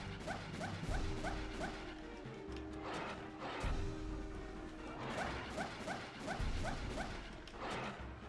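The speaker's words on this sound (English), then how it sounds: "Listen, dogs." Dogs bark repeatedly in the video game Castlevania: Legacy of Darkness, sharp bow-wow barks and yips arriving in bursts with crashing game effects between them.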